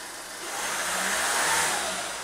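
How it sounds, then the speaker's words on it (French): A Skoda car engine catches and runs, a steady broadband mechanical roar rising quickly and holding close and fairly loud with no voices. "et essayer de faire démarrer le véhicule."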